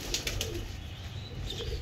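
Low cooing from young pigeons and adults in a fancier's loft, soft and continuous nearby, with a few light clicks and rustles but no voices.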